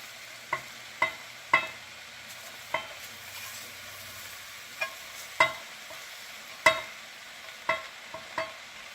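Eggs go into a hot pan for a homemade curry egg dish, giving a low steady sizzle broken by about a dozen sharp spatula taps and scrapes at uneven intervals, close by with no talking.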